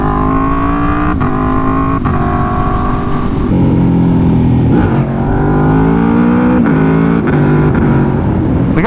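Aprilia Tuono V4 motorcycle engine revving hard during a clutch-up wheelie, a loud, continuous high-revving roar with rising and falling pitch and brief dips at gear or throttle changes, close and steady throughout.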